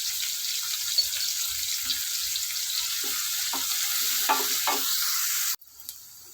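Raw chicken with turmeric, salt and ginger-garlic paste for a brinjal chicken curry is stirred in a pan, giving a steady close sizzle-like hiss with soft scraping strokes, cut off abruptly near the end; no talk.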